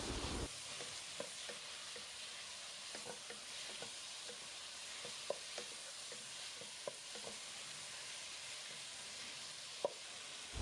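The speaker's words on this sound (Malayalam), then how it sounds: "നല്ലപോലെ ഒന്ന് വഴട്ടിയെടുക്കാം" Thinly sliced tomatoes sauté in a pan for chicken karahi, giving a soft steady sizzle with occasional faint stirring clicks, fairly quiet and close, with no voices.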